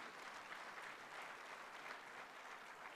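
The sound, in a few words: audience applause welcoming guests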